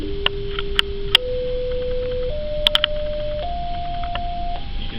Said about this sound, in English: first we're going to do a little frequency scale up sort of signal, and Jake's going to talk about that